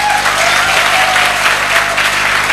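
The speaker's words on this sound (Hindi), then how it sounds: "तालियां थोड़ी कम लग रही हैं" Steady, dense audience applause fills the hall at a Safe Shop motivational speech event, a continuous wash of many hands clapping at even loudness throughout, with no voices breaking through.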